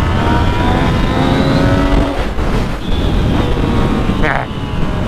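A Yamaha MT-09 motorcycle accelerating hard, its engine note loud and close with rising harmonics, shifting pitch partway through, while someone talks over it.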